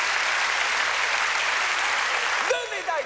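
Loud audience applause for Olympic champion Myriam Bédard at a televised comedy gala, dense steady clapping that thins out near the end as a few scattered claps remain.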